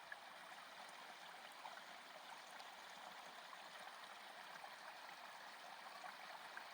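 A mountain stream on a House Mountain hike flows in a steady, soft rushing trickle, faint and unbroken throughout with no voices.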